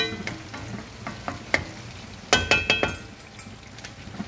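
Chop suey being stirred in a pan on a home stove, with a low sizzle under a series of sharp spoon clinks and scrapes against the pan, clustered strongly in the middle.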